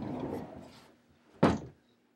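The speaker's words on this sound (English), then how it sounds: "Oops, that door's off the track." A closet sliding door knocked off its track, one loud thunk and rattle about midway, following a softer scraping shuffle; close and otherwise quiet.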